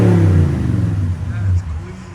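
Toyota Tundra 5.7L V8 with an aftermarket exhaust revving, a loud, deep, steady engine drone that dips and swells briefly over about two seconds, close by.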